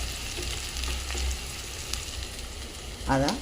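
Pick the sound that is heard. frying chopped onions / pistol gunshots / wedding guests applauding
frying chopped onions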